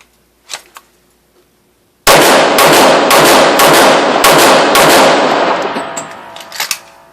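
Six rapid pistol shots fired at a target on a shooting range, loud sharp cracks in a fast even string after a quiet pause, each with a short ringing tail.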